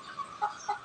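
Hens sick with coryza give a few short, soft clucks, two brief calls standing out near the end over a quiet background.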